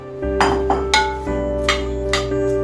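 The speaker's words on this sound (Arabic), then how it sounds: "في الطاجن بتاعي هنزل البصل الجوليان اللي انا مقطعاه" Sliced onion being dropped into a tagine pot, several clinking, knocking hits of utensil against the pot over a steady low hum, close and fairly loud.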